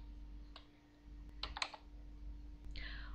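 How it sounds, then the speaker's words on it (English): An alias command is typed on a computer keyboard for the Aardwolf MUD, a few soft scattered key clicks, including a short quick cluster, over a quiet steady hum. "I've just typed alias QR quest request."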